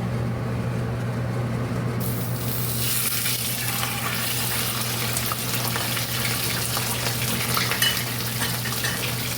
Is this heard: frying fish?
yes